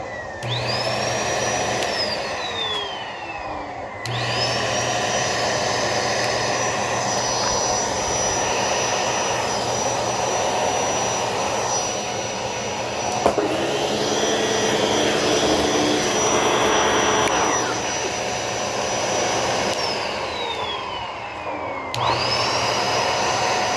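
A Pet Hair Eraser Turbo vacuum cleaner runs loud and close with a steady high whine, switching off and back on twice so the motor spins down and revs up again.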